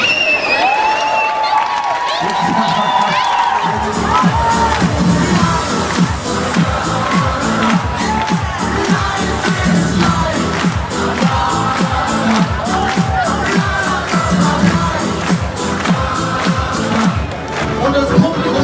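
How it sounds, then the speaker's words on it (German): A live audience at a comedy hypnosis show cheers, whoops and claps wildly, a dense, loud roar of crowd noise that swells after a quieter start and stays sustained throughout. "Und das Publikum rastet aus."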